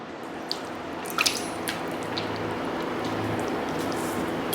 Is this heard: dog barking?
no